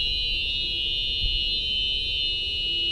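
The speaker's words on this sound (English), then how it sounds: "Fucking 24-volt fire alarm?" A 24-volt fire alarm blares continuously at a steady high pitch, loud and unbroken, with no voices over it.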